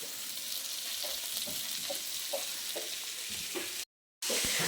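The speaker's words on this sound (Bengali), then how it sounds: "এখানে দেখো এখনো মাছ আছে, এখানে ভাজা চলছে," Steady sizzling of fish frying in hot oil, close by, with scattered clicks and pops, cutting out briefly near the end.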